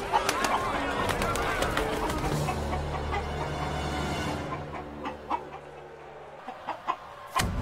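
Roosters at a cockfighting ring in an animated cartoon scene, clucking and squawking amid a busy mix with a sustained low tone, thinning out toward the end into sparse sharp sounds.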